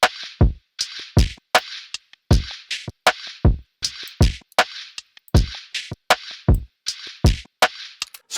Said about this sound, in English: So I added Extractor to the drum loop and then I added my own shakers and I got it to sound like this.